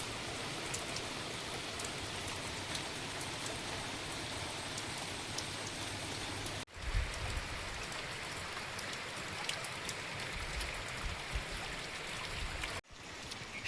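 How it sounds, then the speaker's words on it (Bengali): A steady, continuous downpour falls before dawn, making a dense hiss of rain on surfaces that fills the whole stretch, broken only by two very brief dropouts. "আপনারা দেখলেন তো বৃষ্টি কন্টিনিউ হচ্ছে"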